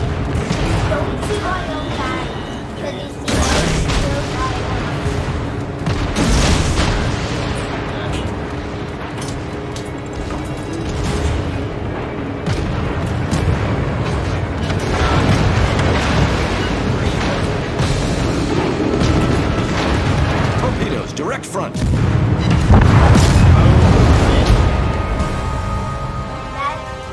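Ship weapons fire in World of Warships, with a dense, continuous rumble of booming explosions and blasts rolling loud and near for almost half a minute, swelling heavier toward the end.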